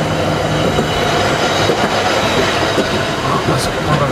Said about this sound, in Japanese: あ、パパ電車通った。 電車通った。